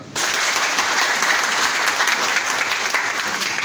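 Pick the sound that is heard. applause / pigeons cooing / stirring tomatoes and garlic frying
applause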